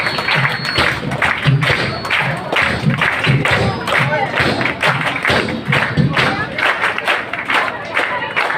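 Audience applause at a college debate society ceremony, many hands clapping in a sustained wash with some thumps and crowd noise, with voices calling out over it.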